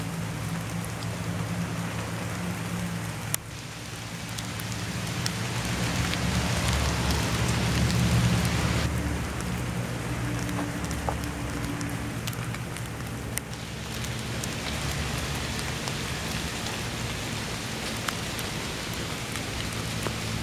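Steady rain falls throughout over a woodland spot where a devil's finger fungus has sprung up, a continuous close patter on the ground with no voices.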